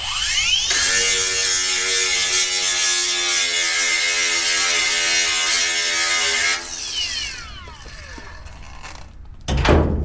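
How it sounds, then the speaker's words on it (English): An electric grinder whines loudly and steadily as it grinds a point for a Lincoln Electric welder's ground clamp, then spins down with a falling pitch, followed by a brief clunk. "One thing I have to do here is grind a point for the ground."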